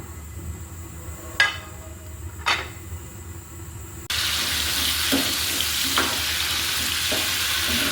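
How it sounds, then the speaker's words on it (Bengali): Potatoes frying in a pan with turmeric and salt, a steady sizzle that swells louder partway through, with a few sharp clinks and stirring knocks from utensils. "এবার আমি আলুগুলোকে একটু হলুদ লবণ দিয়ে ভেজে ফেলবো।"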